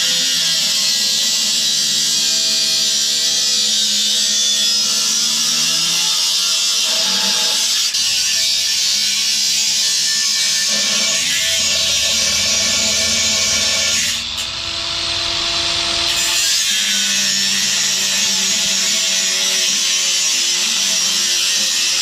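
A battery-powered grinder with a cutoff wheel cuts metal for hood dumps on a twin turbo kit, giving a loud, continuous, close-up whine whose pitch shifts as the wheel bites and eases off.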